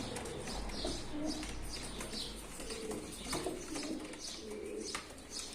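Several pigeons coo in soft, repeated low calls, overlapping close by, with a faint flutter of wings.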